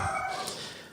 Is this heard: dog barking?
yes